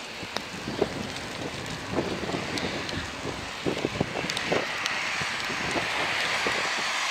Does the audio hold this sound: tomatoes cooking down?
no